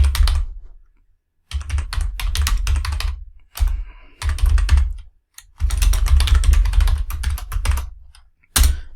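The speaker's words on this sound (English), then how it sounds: "Type in your quote there," Computer keyboard typing in close, rapid clattering bursts of keystrokes broken by several brief silent pauses, with no voices.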